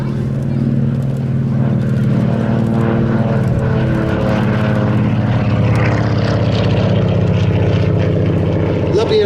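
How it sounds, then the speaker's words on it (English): A Lockheed 12A Electra Junior twin-propeller aircraft flies past at an airshow at roughly 140 knots, its steady engine drone loud and continuous throughout, with a commentator talking over it. "Lovely graceful aircraft, probably up to about 140 knots there as he passes by."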